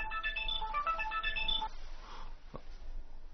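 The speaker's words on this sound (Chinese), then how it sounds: "这么晚还给你打电话？" A telephone rings late at night in a domestic drama scene, a bright electronic ringtone melody playing close for about a second and a half before cutting off, followed by faint room noise.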